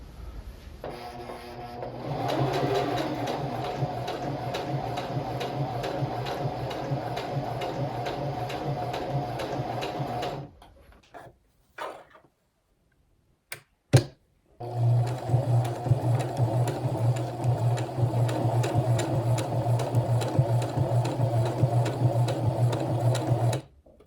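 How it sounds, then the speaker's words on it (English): A sewing machine stitches a tool roll in two long, steady, rapid runs of mechanical rattling, close up and alone, with a short pause and a couple of clicks between them. "There was no resistance whatsoever as I was sewing"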